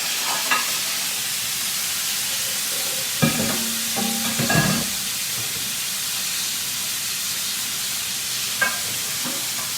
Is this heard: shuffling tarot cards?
no